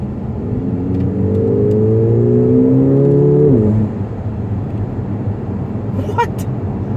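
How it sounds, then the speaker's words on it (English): A Mercedes-Benz GLA45 AMG 4Matic engine revs loudly with its exhaust set to the louder mode, a rising, throaty note, then cuts off abruptly, leaving a low idle rumble. "there's even a button here, I kid you not, to make the exhaust louder."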